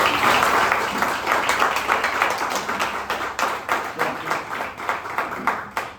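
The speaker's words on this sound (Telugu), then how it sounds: "give them a huge round of applause" A room full of people at an office gathering breaks into sustained, even applause, dense clapping that starts loud and gradually thins out over six seconds.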